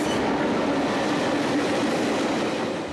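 A Chinese DF4 East Wind class diesel locomotive of about 3,590 horsepower hauls its train past with a loud, continuous roar and rumble of wheels on rail, with no break from start to finish.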